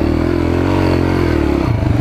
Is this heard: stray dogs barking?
no